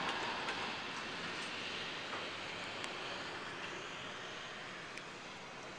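A CSX freight train with BN cars, the tail end of a consist led by an AC6000 locomotive, rolls past as a steady, loud broadband rumble with faint wheel clicks, no voices.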